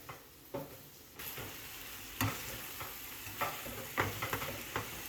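Fresh basil is stirred into Thai drunken noodles in a sizzling pan, with a steady fry hiss and several distinct scraping strokes of the utensil. No one speaks.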